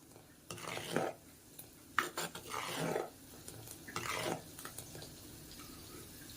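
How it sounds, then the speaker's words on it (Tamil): A spoon scrapes and swirls through coconut milk thickening in a pan, in several rough stirring strokes with quiet pauses between them, close and fairly soft. "அதனால கொஞ்சம் இடையில நம்ம அப்படியே கிண்டி விட்டுக்குவோம்"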